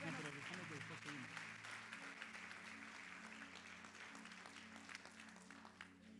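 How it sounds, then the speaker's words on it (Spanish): A congregation applauds inside a church at a Pentecostal-style service, a dense, steady wash of clapping lasting several seconds at low level, with sustained musical tones beneath it. "Démosle un aplauso al Señor por su vida."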